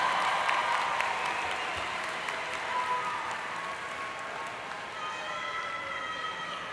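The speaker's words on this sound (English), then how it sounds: "give them a round of applause for their continued support" Graduates at a university commencement ceremony applaud their family members: sustained, even clapping from a large seated crowd fills the whole stretch, steady in level with no talk over it.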